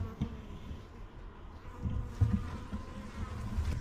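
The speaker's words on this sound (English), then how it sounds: "right now we got some scout bees checking out my bucket as a potential new home" Honeybee scouts buzz around a swarm trap bucket outdoors, several bees coming and going with soft, intermittent buzzing passes that swell and fade, fairly faint against a quiet background.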